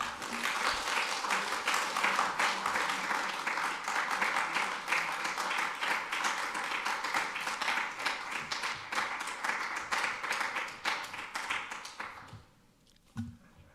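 An audience at a YIVO evening program gives warm, sustained applause to welcome a speaker, with many hands clapping steadily at close range for about twelve seconds before the sound quickly dies away.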